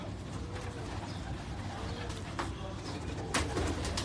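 Pigeons coo softly from a rooftop loft of racing pigeons in Karachi, low murmuring calls repeating steadily at close range against a busy background hum, with a brief brighter rustle near the end.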